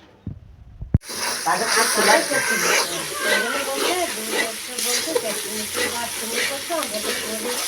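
Spice masala with ginger being fried and stirred in a pan for ghugni, a loud close sizzle that bursts in after a brief clatter and carries on with stirring and scraping throughout.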